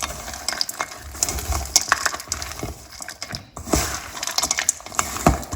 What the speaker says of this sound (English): we're gonna continue blending it with our hands